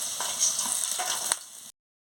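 Okra sizzles steadily in a hot pan while being stirred, with a few soft scraping knocks over the frying hiss before it cuts off abruptly.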